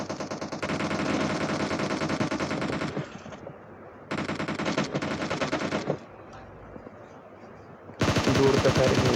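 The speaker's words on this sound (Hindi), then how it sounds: "दूर तक फायरिंग होने लगी।" Rapid bursts of automatic gunfire in a battle royale video game come in several loud, dense volleys separated by short quieter gaps, with a final burst at the end.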